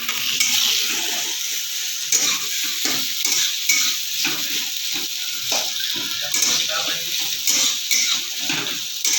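Onions fry in a pan, giving a steady, loud sizzle with scraping stirs throughout, and a faint voice is heard in the background.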